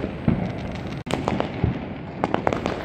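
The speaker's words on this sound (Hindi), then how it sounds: "यहाँ पर भी एक रॉकेट निकलता हुआ" Diwali firecrackers and rockets go off all around a rooftop terrace at night, with a dense volley of sharp pops and crackles, several close bangs and a continuous background crackle of distant fireworks.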